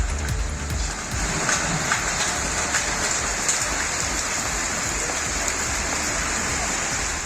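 Sudden heavy rain pours down in Tamil Nadu, a dense, steady hiss of drops striking surfaces that holds unbroken and loud throughout, with no voices.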